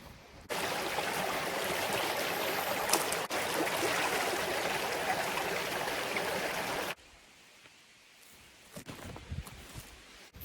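A river stream flows in a steady, full rushing wash for about six seconds close by, then drops abruptly to a much quieter trickle with a few small knocks and handling sounds.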